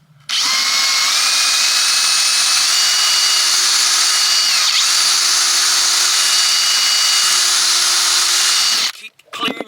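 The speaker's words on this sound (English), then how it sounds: "all I got to do is drill that pilot hole" A power drill boring a pilot hole while fitting a throttle cable control to a Weber carburettor on a Triumph MkIII Spitfire, a loud, close, continuous whine lasting about nine seconds before stopping abruptly.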